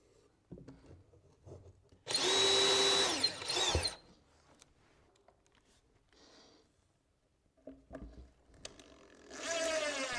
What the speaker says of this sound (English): I am able to drill from the back side and really attach that drawer face permanently to the drawer box itself.